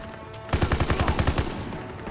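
Gunfire in Call of Duty WWII: a quick burst of about a dozen evenly spaced shots, close and punchy, cutting off abruptly and leaving a dull background hum, with no speech during the burst.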